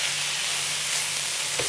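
Pastilla filling with spices and olives sautéing in a pan, a steady close sizzle and frying hiss running throughout with faint stirring, no voices.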